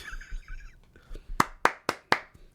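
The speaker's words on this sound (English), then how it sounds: "That's soft clapping his hands" Four soft, evenly spaced hand claps ring out after a few quiet murmurs, close and gentle.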